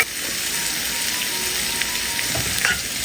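Sliced onion and curry leaves sizzle in a hot pan, a steady close crackle of frying with faint scattered pops and a light clatter near the end, no voices.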